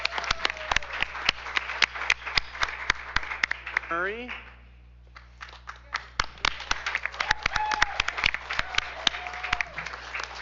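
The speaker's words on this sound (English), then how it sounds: "we can give him an applause" An audience at a school board business meeting gives scattered, sparse applause, with a speaker's voice continuing around and over the claps.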